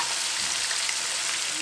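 Peeled prawns, about two kilos, frying in hot oil in a pan for a pickle, a dense continuous sizzle close up with no voices.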